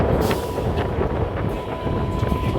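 A train runs on the Krishnagar–Amghata rail line, a loud continuous rumble with faint rhythmic clatter and wind buffeting against the microphone as it rounds a curve.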